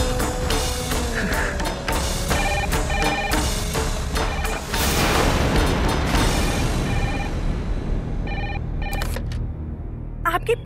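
A telephone rings with repeated bell tones under a dense, loud dramatic music score, the rings carrying on through the bed of sound before it thins out and fades at the end.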